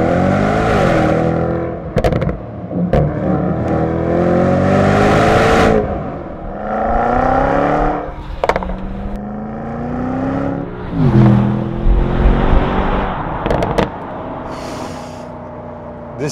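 A Mercedes-Benz GLE63S AMG with an Akrapovic Evolution Line titanium exhaust roars loudly as the engine revs up through several gear changes, with pops and crackles between pulls, heard from nearby.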